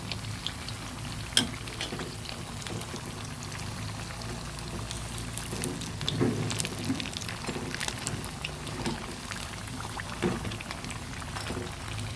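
Pumpkin leaf rolls fry crisp in hot oil with a steady, even crackle and a few louder pops and stirring knocks, close by and with no voices.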